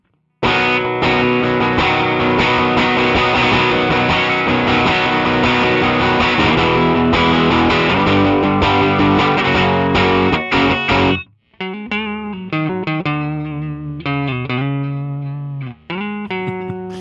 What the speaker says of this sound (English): you're getting a lot more distortion because of a thing with the humbuckers.